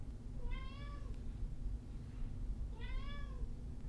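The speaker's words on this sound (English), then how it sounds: "I am being summoned to open the door to my office by my cat." A house cat meows at a closed office door, two separate drawn-out calls spaced a couple of seconds apart, fairly clear against a steady low background hum.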